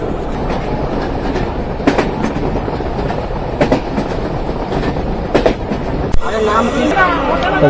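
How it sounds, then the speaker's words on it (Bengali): Kapotakkho Express, running from Khulna to Rajshahi, speeds along at about ninety km/h with a loud, continuous roar of wheels on rails and repeated sharp clacks over track joints. "মুহূর্তে কপোতাক্ষ এক্সপ্রেস ট্রেনের গতি দেখা যাচ্ছে নব্বই কিলোমিটার"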